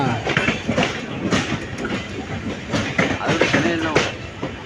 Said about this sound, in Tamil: எட்டு மணிக்கு ஈரோடு வந்துருச்சு இந்த வண்டியை ஈரோடு ஜங்ஷனுங்க